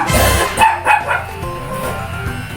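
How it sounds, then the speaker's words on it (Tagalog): A dog barks a few times in quick succession, close and loud, followed by quieter yips and whimpering noises. "Pinahulang ka ng aso."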